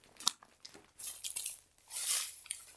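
Crinkly rustling of plastic in a few irregular bursts, close by, with quieter handling noises between them.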